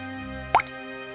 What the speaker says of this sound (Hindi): गर्मियाँ आ गई, फिर भी ये बारिश रुकने का नाम ही नहीं ले रही